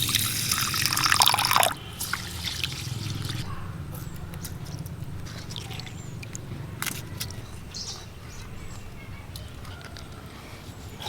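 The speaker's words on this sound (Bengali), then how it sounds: "এই শসাটা আমি এবার ধুয়ে নেব।" A cucumber is washed in water. A brief burst of splashing, running water is followed by softer drips, trickles and light handling noises close by.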